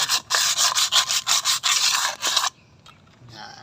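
Sandpaper rubs powdery residue off a motorcycle tire in fast, rhythmic close scrubbing strokes for a couple of seconds, then stops, leaving faint handling noises.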